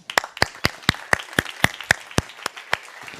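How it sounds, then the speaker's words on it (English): A small audience at an endurance sports session gives a slow, sparse round of applause for an athlete as motivation. About a dozen distinct claps ring out at a steady rhythm, clear and fairly close. "Just as motivation for Alexi, okay, just give him applause."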